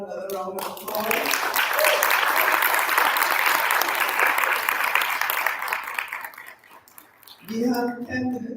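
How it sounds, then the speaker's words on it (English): Audience applause at a peace conference plenary session, a sustained burst of clapping between spoken passages, with a voice talking before and after it. "Let's give her another round of applause"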